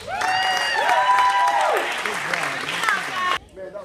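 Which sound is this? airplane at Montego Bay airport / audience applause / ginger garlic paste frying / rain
audience applause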